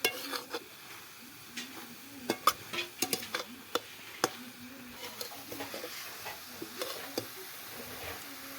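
A sweet bottle gourd mixture roasting in ghee in a pan, with a soft low sizzle under scattered clicks and scrapes of a spoon stirring against the pan.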